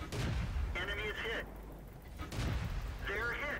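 Two heavy tank gun blasts boom in the video game World of Tanks, one at the start and another a couple of seconds later, each a loud, broad burst while a player talks.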